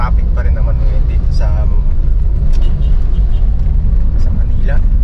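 Busy Manila street traffic with a steady low rumble of cars and buses close by, passing vehicles swelling now and then, and people talking over it throughout.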